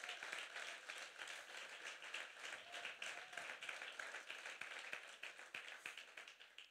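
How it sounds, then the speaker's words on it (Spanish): A church congregation applauds during a Spanish-language sermon, clapping steadily and fairly evenly throughout. The sound is faint and distant, with individual claps standing out against the crowd. "denle ese fuerte aplauso al Rey de Reyes"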